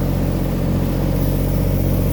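Tractor engine idling after a cold start on a late-November morning, a loud, close, steady low rumble with no voices.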